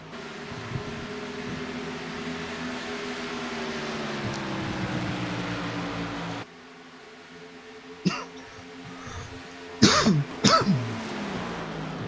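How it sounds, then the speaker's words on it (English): A man clears his throat and coughs in a few sharp bursts near the end, following a low droning engine hum from a sim racing broadcast of the Chicagoland 200. "I'm sorry about the cough tonight."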